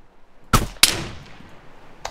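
Two sharp, loud rifle shots in quick succession in Arma 3, each with a short decaying tail, followed by a fainter third report.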